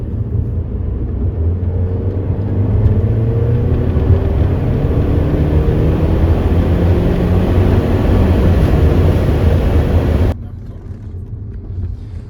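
A MINI Cooper S accelerating hard, a loud, steady engine drone heard from inside the cabin that holds for about ten seconds before dropping off abruptly, with people talking over it.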